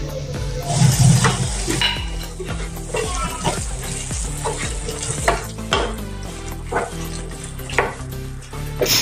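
Finely chopped tomatoes sizzle steadily in a hot pan while a utensil stirs and scrapes, with irregular clacks against the metal.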